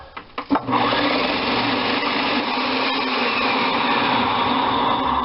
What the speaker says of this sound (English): Now we slice our potato.